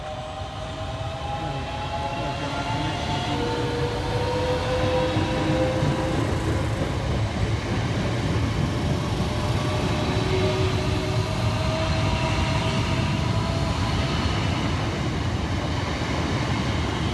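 A two-unit Southeastern Class 376 electric train, 376008 and 376031, pulls into a station on the Hayes line. A steady rumble sits under a rising and falling motor whine, close and continuous throughout.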